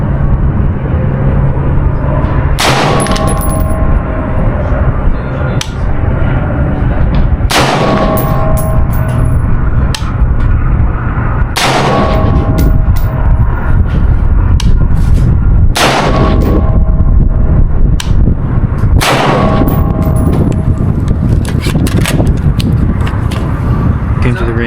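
Sharp gunshots from a Poor Mans MK18 rifle crack out at an outdoor range bench, about six loud, evenly spaced reports with short ringing decay between them.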